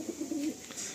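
Madrasi pigeons coo softly nearby, a short burst of low throaty rolling calls heard alone at modest volume.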